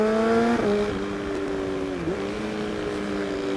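A 2019 Kawasaki ZX636 sport motorcycle with modified parts, its engine and exhaust revving up then dropping, clear harmonic whine sliding in pitch with a dip midway, loud and close with no talk.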